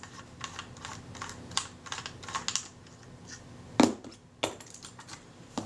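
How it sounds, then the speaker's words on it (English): Small metallic clicks and scraping ticks from a retaining ring tool unscrewing a camera shutter's threaded retaining ring, irregular and close, with one sharper clack near the end. "again, I'm using my retaining ring tool"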